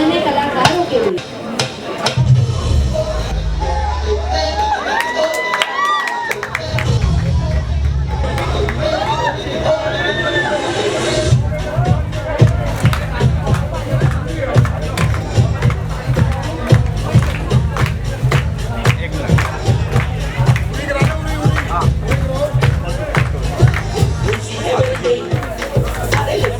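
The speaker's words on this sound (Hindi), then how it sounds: "मैं चाहूंगी आप सबकी जोरदार तालियां हो जाए और सभी नन्हे कलाकारों के लिए" Wedding sangeet audience applauding a children's group performance, with crowd chatter and shuffling at first, then steady, close, sharp claps running under someone speaking into a microphone.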